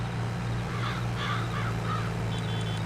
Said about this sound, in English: Bloody birds.